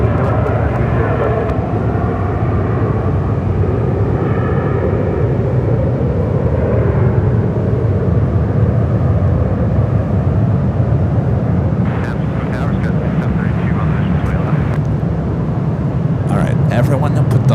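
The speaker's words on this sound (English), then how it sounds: "A380 now pushing it back" Airbus A380 airliner at San Francisco airport, a loud continuous jet engine roar and rumble filling the whole span, with faint higher whines rising near the end.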